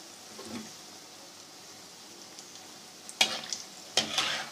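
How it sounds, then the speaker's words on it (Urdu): Lentil fritters for dahi bara frying in a pan give a faint, steady sizzle, with two sharper stirring or utensil clatters near the end. "اور بہت زیادہ اس کو فرائی نہیں کرنا, گولڈن نہیں کرنا, ورنہ یہ سخت ہو جائیں گے"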